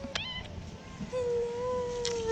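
Up close, a cat gives a couple of short meows, then a longer drawn-out meow that holds steady before trailing off.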